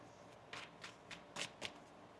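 Tarot cards being shuffled by hand, a quiet close-up series of four or five short riffling bursts in a loose rhythm with no talking.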